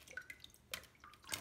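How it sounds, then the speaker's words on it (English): Water sloshing and splashing in a small betta fish tank as it is swished around during cleaning, heard as a few short, close wet bursts with quiet drips between them. "you just swish it around so all the stuff will go out and splash out"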